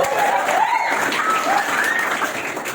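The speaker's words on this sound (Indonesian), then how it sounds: "Tepuk tangan dulu Mas" An audience at an afternoon teacher-training performance gathering in Indonesia claps together in a sustained, lively round, with a few raised voices or cheers rising through the applause.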